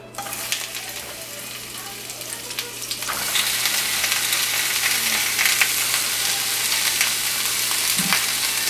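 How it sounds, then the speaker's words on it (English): Peppers stir-frying with salt in a very hot pan for a pork steak donburi, a steady loud sizzle that jumps sharply in intensity partway through as more food meets the oil, with faint clatter. "Stir fry the peppers with a little salt. So we're going to put the peppers now."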